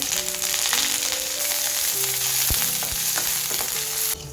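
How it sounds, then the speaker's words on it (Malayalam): Chillies and curry leaves sputtering in hot oil with shallots for a Kerala-style fish curry, a steady loud sizzle with sharp crackles and pops throughout, no voices. "നമുക്ക് മുളകും കൂടെ ഇട്ട് കൊടുക്കാം. കുറച്ച് കറിവേപ്പില."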